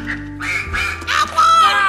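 A cartoonish duck quacks in a few loud, nasal bursts during a toy horse-racing betting game, the calls rising in strength toward the end with no talk over them.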